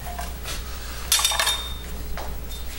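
A knife cuts through a baked quiche Florentine and its crust, producing a few faint scrapes and a sharp clink of metal against the dish, close and quiet.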